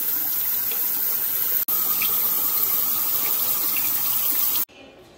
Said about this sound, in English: Just give them a quick rinse to get that ice off of them.